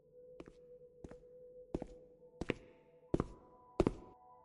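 Six slow, evenly paced footsteps thud along an echoing hallway as a horror sound effect, each step growing louder as the walker approaches.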